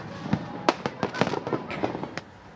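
New Year's Eve fireworks burst over Bundaran HI in Jakarta, a quick irregular series of sharp cracks and pops at middle distance, with crowd noise underneath.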